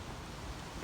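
Wind gusts outdoors on a breezy day, rumbling steadily against the microphone as a brief, even rush of noise.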